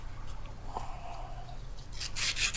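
Steady scraping of sandpaper rubbing against wood, a continuous low rasp that grows brighter and harsher near the end, close by with no voices; sanding the wooden hull of an Artesania Latina Soleil Royal model ship.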